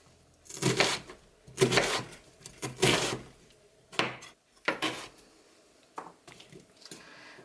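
A knife cuts an onion into big chunks on a board, a series of close, sharp thuds in an uneven rhythm, some strikes louder and spaced about a second apart.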